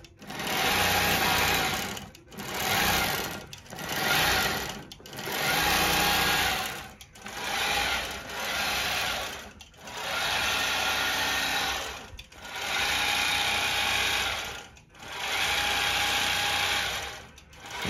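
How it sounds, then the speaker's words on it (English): Three long arm quilting machines stitch at once, a loud, close, rapid mechanical whirring that runs in repeated bursts of one to two seconds, each separated by short pauses, with no talk. "That's all three machines going at once."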